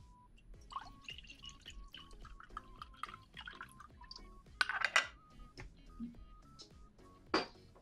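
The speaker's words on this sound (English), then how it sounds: "Let's add water below." Water trickles and drips into a coffee being made, a run of small liquid plinks and splashes, with a louder gurgling pour partway through, all close up over a quiet background.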